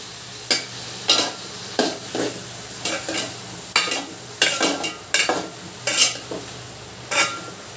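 Onions, green chillies and tomatoes being stirred and fried in a pan for an egg and dried prawn curry, with steady sizzling and about a dozen scraping strokes of a spoon against the pan, close by and with no talking.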